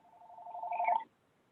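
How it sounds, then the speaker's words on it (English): A telephone rings during a board meeting, a short trilling burst lasting about a second, fairly clear and alone before cutting off into silence. "Somebody's phone's ringing."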